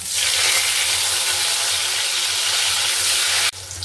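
Tomato hits hot oil already holding cinnamon and cardamom, and a loud, steady frying sizzle fills the pan, close up, before dropping sharply near the end.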